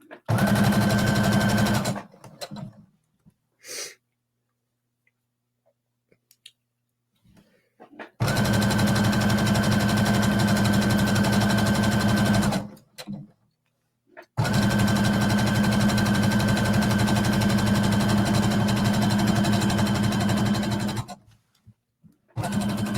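Sewing machine stitching leggings fabric runs in two long, loud, steady bursts of rapid mechanical whirring, with short quiet stops and brief clicks between runs.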